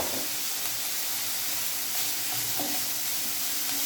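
Chopped onion and four chopped green chilies frying in a pan, a steady close sizzle with faint stirring scrapes running continuously throughout, no voices.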